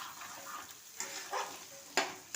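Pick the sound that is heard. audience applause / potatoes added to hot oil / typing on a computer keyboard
potatoes added to hot oil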